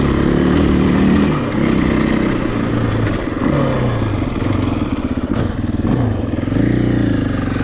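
A 2020 Husqvarna FE501S dual-sport motorcycle engine drones loudly and close up while riding, its pitch rising and falling with repeated throttle changes and gear shifts throughout.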